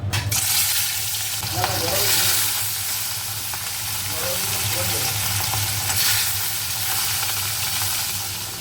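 Fish frying in a pan in a home kitchen, a steady, close hissing sizzle with occasional crackling pops that rises and falls gently throughout, with no voices.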